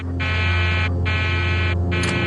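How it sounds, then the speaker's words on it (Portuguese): An aircraft cockpit overspeed warning alarm sounds in three loud, repeated buzzing bursts with brief gaps, over a steady low cockpit hum. "O alarme de excesso de velocidade diz à tripulação que eles se aproximam de 350 nós"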